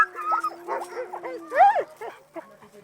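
Sled dogs whimper, yip and bark in rapid bursts, close and fairly loud, with high whining tones rising and falling between the barks.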